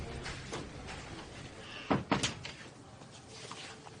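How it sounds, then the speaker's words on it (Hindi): A door swings shut with a pair of close, muffled thuds midway through, fairly near, amid faint room noise and no talk. "दरवाजा बंद करो।"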